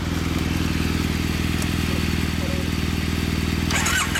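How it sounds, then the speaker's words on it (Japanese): A 2009 Triumph Bonneville SE motorcycle with stock exhaust idles up close with a steady, throbbing exhaust pulse, loud and even, with a brief rise in revs near the end. "エンジン音聞かせてもらえますか？"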